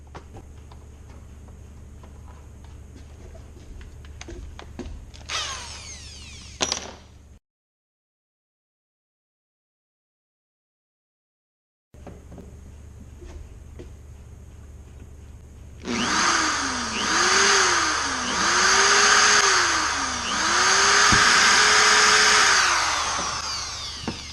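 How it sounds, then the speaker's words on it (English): Electric drill whines in short bursts, goes silent for several seconds, then grinds loudly with rising and falling pitch as it bores through wood. "go ahead and drill the hole through there, make sure it's going to fit"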